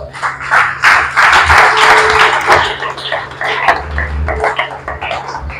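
A church congregation applauding, dense close clapping from many hands swelling at once and tapering off, with some voices mixed into the applause.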